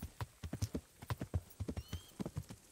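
Horse hooves clip-clop at a walking pace in the medieval video game Kingdom Come Deliverance, a close, rhythmic series of light thuds with a brief whinny-like tone partway through.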